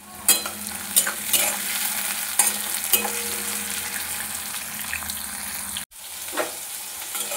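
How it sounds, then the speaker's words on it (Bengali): Chopped onions softening in hot oil with salt, seasoned with cloves, cardamom, cinnamon, bay leaf and dried chilli, giving a continuous close sizzle with occasional stirring clatters and no talking. "লবণ দিয়ে পেঁয়াজটা একটু নরম করে নেব।"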